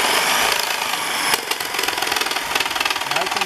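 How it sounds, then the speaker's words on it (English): A new jigsaw cutting through material while building a compost tumbler: a loud, close buzzing motor with a fast rhythmic chatter from the reciprocating blade, over a few seconds, with no talking. "use the jigsaw to cut it this way"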